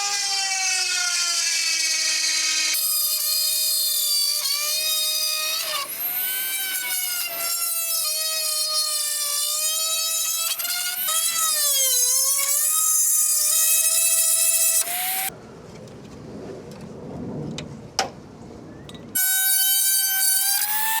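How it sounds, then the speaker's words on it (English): A Dremel rotary tool fitted with a RotoZip bit cuts sideways through a Lexus GX460 grille, a loud high-pitched whine that rises and falls as the load changes, breaking off briefly near the end before starting again. "we're going to use a Dremel tool. And we have fitted here a RotoZip bit. It's not just for drilling holes, you can cut sideways."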